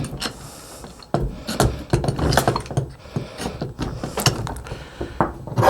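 Large steel C-clamps are cranked down onto guitar neck and body wood, giving repeated close ratcheting, creaking screw turns and wooden knocks in an uneven rhythm, with no talking.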